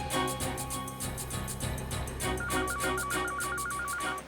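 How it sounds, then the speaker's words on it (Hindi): A telephone rings with a repeating electronic warbling tone, audible over a loud dramatic background score in a TV crime drama scene. "बेल बज रही है सर।"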